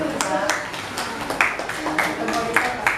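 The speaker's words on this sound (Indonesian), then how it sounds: "kasih tepuk tangan buat kelompok 1" Applause from a classroom group for the first team during a teaching-practice session, with scattered, uneven claps of moderate loudness running throughout while voices carry over it.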